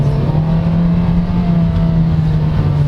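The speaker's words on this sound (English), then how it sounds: "being a naturally aspirated engine, it will scream a lot" A 2019 Kia Forte LX's naturally aspirated engine holds a loud, steady high-pitched rev, droning continuously at close range with no voices.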